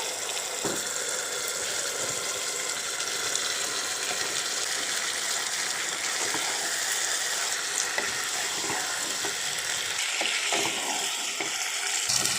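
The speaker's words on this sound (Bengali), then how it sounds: "এখন আমি আলু ও পটলটাকে দিয়ে ভালো করে কষিয়ে নেব।" Potatoes and pointed gourd sauté in spice paste in a pan, giving a continuous close sizzle with occasional stirring scrapes and soft clatter, with no voices.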